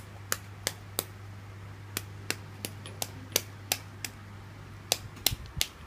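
Boiled eggs being tapped to crack their shells while making dinosaur eggs: a dozen or so sharp, light cracking taps at uneven intervals, fairly close, over a steady low hum, with no talk.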